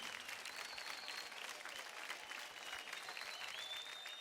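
A studio audience on a Marathi dance reality show claps in sustained, dense applause, steady and moderately distant, with no talk over it.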